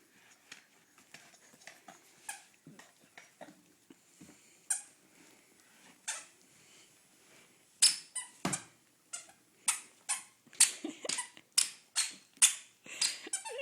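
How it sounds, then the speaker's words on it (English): A toddler's new shoes squeak as he dances: sparse soft squeaks at first, then a steady run of sharp, loud squeaks in a regular back-and-forth rhythm over faint room noise. "He loves how his shoes squeak."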